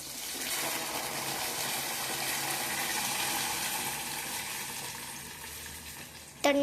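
Water pours into a cooking pot as a steady, broadband rush that lasts several seconds and slowly fades, ending with a short clatter.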